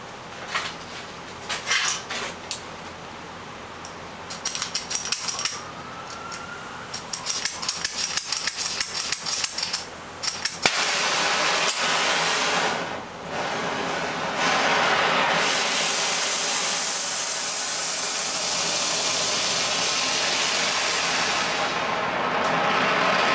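A bronze part for a barbecue support is clamped in a vise while its last sides are filed square: rapid, rhythmic metallic rasping strokes, close and loud, giving way to a continuous harsh, grinding-like roar of metalworking noise.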